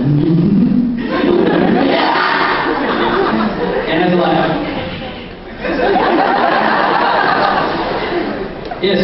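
A voice actor at a convention panel vocally imitates Ichigo's fight reaction shouts from Bleach, regular and Hollow versions, with loud grunts and yells into a microphone while the audience chuckles and chatters.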